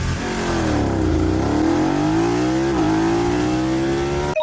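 BMW motorcycle accelerating hard from standstill to 100 km/h, a loud, close engine note climbing steadily in pitch through the gears with a brief dip at a shift before cutting off at the end.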